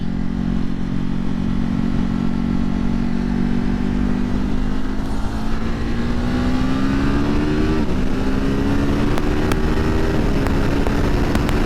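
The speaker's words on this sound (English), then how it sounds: "All right, so let's see, let's give it a little acceleration." A 2020 Ducati Hypermotard 950 SP motorcycle accelerating on the road, its engine note loud and close, climbing steadily in pitch through the gears with constant wind rush underneath.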